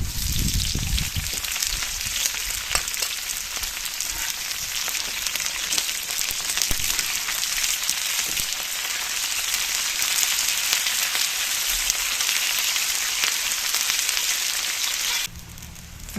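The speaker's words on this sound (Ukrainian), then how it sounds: "Цибуля з морквою вже обсмажились." Onion and carrots sizzle in hot oil in a pan, a dense, constant crackling hiss held close and steady, ending with a slight drop in intensity.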